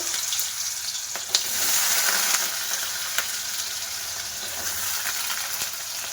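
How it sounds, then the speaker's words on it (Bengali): Small diced potato cubes fry in oil with a loud, dense, continuous sizzle and crackle, heard up close with a few faint clicks of stirring and no talk. "দেখো আমি চৌকো করে ছোট ছোট করে আলু কেটে নিয়েছি আলু দিয়ে ভাজা করে নেব"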